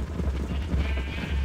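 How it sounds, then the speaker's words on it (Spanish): Several Minecraft cows crowded together in one spot, lowing in overlapping bleat-like calls, fairly loud and close, with no voices over them. "Tenemos como demasiadas vacas juntas en el mismo lugar."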